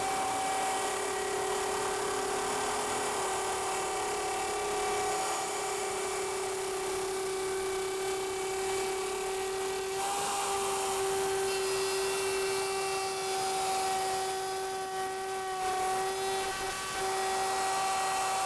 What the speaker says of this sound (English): fires up the router and is on to his next dado